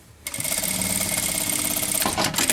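A sewing machine runs steadily, stitching a bag lining closed with a fast, even mechanical whir that starts abruptly and continues for a couple of seconds before slowing briefly, alone without talk.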